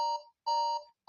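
A quiz countdown timer alarm rings out in loud, clean electronic bursts, two long tones and the start of a third, separated by brief silences.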